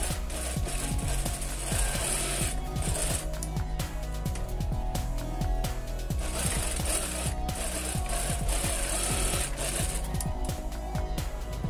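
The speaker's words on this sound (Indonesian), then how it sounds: "Oke, kita jahit dulu ya untuk bagian sudut ini." A sewing machine runs steadily, stitching the corner of a fabric bag in a continuous mechanical whir with rapid rhythmic needle strikes throughout.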